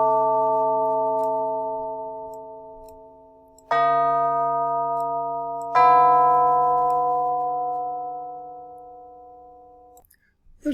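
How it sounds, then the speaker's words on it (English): Tubular bells struck one after another, each strike ringing into a long, bright metallic sustain that slowly fades before the next hit, loud and close, three clear tones with a faint knock at the end. "Back to tubular bells."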